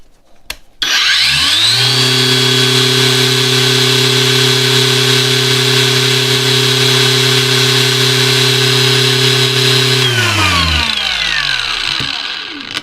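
An ALLSOME PT037-N cordless angle grinder spins up after a click, runs at a steady high-pitched whine with strong harmonics for about nine seconds, then winds down as the motor slows.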